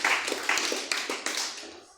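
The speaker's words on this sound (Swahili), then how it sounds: "Pigia Yesu makofi mazuri." Church congregation applauding during a sermon, a brief burst of scattered hand claps that starts loud and thins out toward the end.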